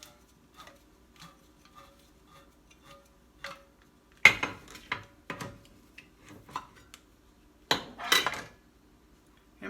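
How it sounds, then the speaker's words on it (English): A manual can opener works around a can of sliced pineapples, giving a run of small metallic clicks and ticks, then a few louder clanks near the end, close and otherwise quiet. "Let me get out my can opener again here. Get our sliced pineapples opened."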